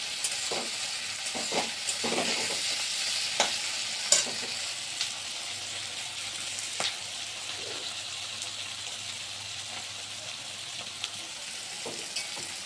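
Flattened rice mixed with salt and turmeric fries in a pan for a Bengali-style poha pulao. A quiet, even sizzle runs throughout, with occasional clinks and scrapes of stirring.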